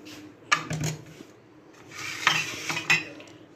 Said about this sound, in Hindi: चाय मज़ेदार और टेस्टी गर्म होगी, इसको उतार के चलाते हैं।